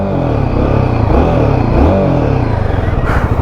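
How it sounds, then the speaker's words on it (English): The single-cylinder engine of a Royal Enfield Guerrilla 450 motorcycle revs up close and loud, rising and falling with repeated blips of the throttle, and a rough idle thump sits beneath it. "Revy, definitely the engine is revy and the throttle response is very nice."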